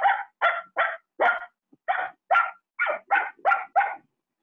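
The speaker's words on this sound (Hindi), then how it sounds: "देन द सेकंड पप्पी, छोटा पप्पी कैसा करता है आवाज" A small puppy barks in a run of about ten sharp, high yaps, evenly spaced with one brief gap, loud and close with no voices over them.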